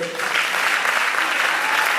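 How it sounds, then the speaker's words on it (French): A studio or live audience applauds a slam poet, a dense, even burst of clapping that holds steady for about two seconds, with a brief voice trace at the very beginning. "il faut applaudir pour ça, s'il vous plaît."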